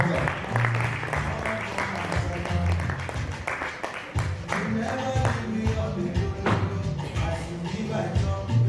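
An audience claps to welcome a speaker at a live-streamed gathering, a loud, dense round of applause that keeps going, with a voice heard briefly among the claps.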